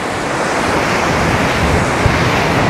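Sea surf rolling onto the shore at Sukko beach in Krasnodar Krai, a steady loud wash of breaking waves with wind buffeting the microphone and no voices.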